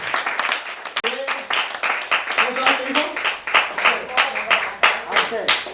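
A church congregation claps along during a Spanish-language sermon, a dense, rhythmic patter of many hands that steadies into a beat, with someone speaking over the start.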